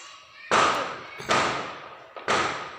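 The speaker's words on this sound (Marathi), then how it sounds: "तो फटाक्यांचा आवाज आहे." Wedding firecrackers go off outside a marriage hall, three sharp bangs about a second apart, each cutting in abruptly and fading away, heard at a distance.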